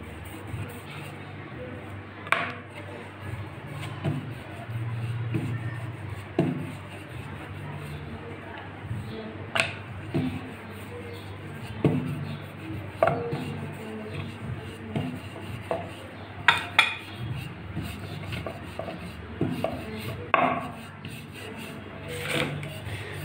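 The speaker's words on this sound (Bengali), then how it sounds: "একই রকম করে আমি সমস্ত পরোটাগুলো বেলে নেব" Paratha dough being rolled out with a rolling pin, soft rubbing strokes and occasional light taps and knocks, repeated irregularly while someone talks over it.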